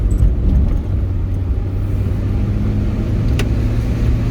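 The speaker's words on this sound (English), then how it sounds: "just wanted to do a short demo ride so that you guys could see what this old classic Honda CRX looks like" Low, steady engine rumble and road noise from a 1986 Honda Civic CRX HF on a short drive, heard close from inside the car with no talking.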